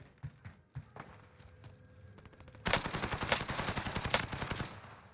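Gunfire in a video game, a few scattered shots and footsteps at first, then a loud rapid automatic burst of rattling shots continuing to the end.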